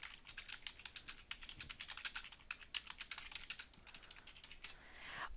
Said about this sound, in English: you can come here under Doctor Note and manually type in a note such